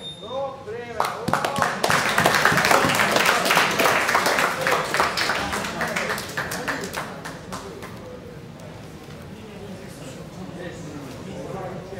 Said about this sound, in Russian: Похлопаем, давайте поддержим!